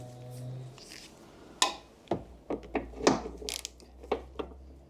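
A ratchet works on a 19mm bumper bracket bolt on a Jaguar XK8, giving a run of sharp, close clicks and metallic knocks in uneven bursts against a quiet garage background.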